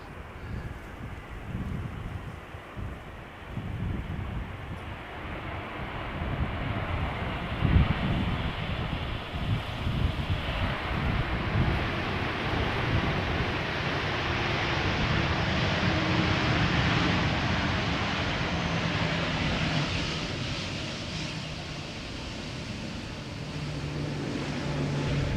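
An Air Canada airliner from Montreal arriving at Schiphol Airport, its jet engine roar rising and shifting steadily over nearly half a minute, mixed with wind noise on the microphone.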